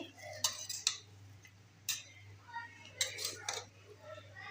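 A spoon scrapes and clinks against a pot while cooked raisin rice is mixed, a few sharp metallic knocks spaced apart over a faint steady hum, quiet and close.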